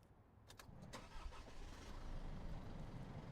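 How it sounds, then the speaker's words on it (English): Diesel engine of an Isuzu N-series truck starting: a few sharp clicks and a brief crank, then a low rumble that settles into a steady, rising idle, fairly close and without talk. "Now start the engine."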